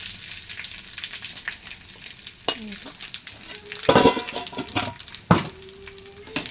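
Curry leaves and turmeric frying in hot oil for a carrot chutney, giving a continuous sizzle with sharp crackling bursts and a few spoon scrapes against the pan.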